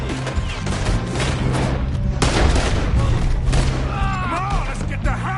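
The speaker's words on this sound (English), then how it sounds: "They're shooting right at me!" Gunfire in Red Dead Redemption 2, a dense, continuous burst of shots and booms during a game shootout, with a voice shouting over it.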